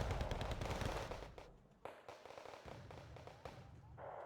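.50 caliber machine gun fire in a video game, rapid heavy bursts that are loud and continuous at first, then break into shorter volleys with brief gaps.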